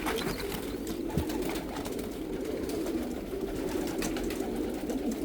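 Pigeons, homing and meat breeds, cooing at a large pigeon farm, with soft low coos repeating over a steady murmur of the flock nearby.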